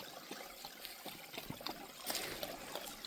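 A creek trickles past downed logs on a forest hike, a soft, continuous watery babble heard at a distance, quiet and steady with a slight swell near the end.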